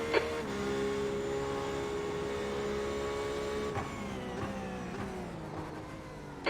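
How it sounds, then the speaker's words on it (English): Race car engines in an IMSA racing game at Silverstone: a steady, high-pitched engine drone with shifting whining tones as a faster car closes in, plus brief mechanical clicks. "Okay, Dwayne, there's a faster car approaching."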